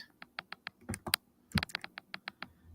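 Quiet clicking keystrokes on a computer keyboard, quick bursts of taps in an irregular rhythm with a brief pause midway, close and soft.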